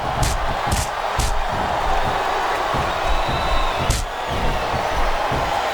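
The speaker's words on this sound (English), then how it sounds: "I think this crowd's giving these superstars a piece of their minds, King." A wrestling crowd in the WWE SmackDown vs Raw 2007 video game roars and cheers continuously, punctuated by several sharp slams and thuds from the ring, with no commentary over it.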